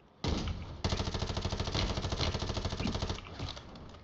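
Rapid automatic gunfire in the video game Warzone 3, a loud sustained burst of closely spaced shots lasting about three seconds after a single opening shot, close and dominant, tapering at the end.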